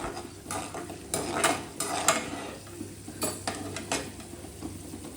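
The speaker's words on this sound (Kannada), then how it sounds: "ಕಡಲೆ ಬೀಜ ಲೋ ಫ್ಲೇಮಲ್ಲಿ ಹುರ್ಕೊಳ್ಳೋಣ." Peanuts dry-roasting in a pan over a low flame for lemon rice, with soft scraping stirs and light clinks of a spoon against the pan over a faint steady sizzle, close and without talk.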